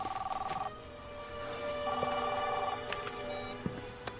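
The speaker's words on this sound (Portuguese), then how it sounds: "Atende o telefone." A telephone rings with a trilling electronic bell in two bursts, against room noise and faint scattered sounds in a dubbed film scene.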